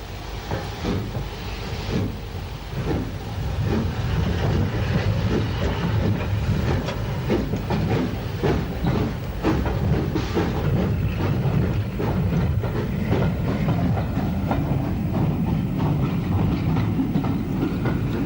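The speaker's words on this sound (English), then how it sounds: "Ebbw 46511 leaves a substantial station at Llanidloes with the 8:03 a.m." Steam locomotive 46511 pulls away from Llanidloes station with a morning passenger train bound for Moat Lane Junction, a steady loud rumble with rhythmic beat and wheel clatter building throughout.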